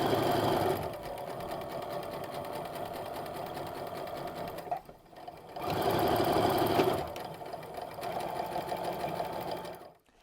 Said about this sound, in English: I would sew straight down the line, and then I would repeat until I was done with my stack